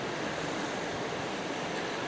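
Ocean waves wash onto the shore near high tide as a steady, soft surf hiss with no distinct breaks, fairly faint and unbroken.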